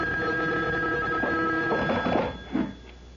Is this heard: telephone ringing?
yes